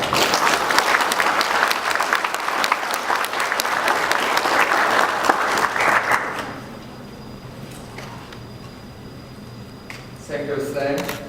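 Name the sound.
audience applause welcoming the ambassador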